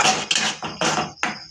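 A spoon scrapes and clinks against a pan while stirring ground masala paste for egg tikka masala, in several short, loud, rhythmic strokes close by.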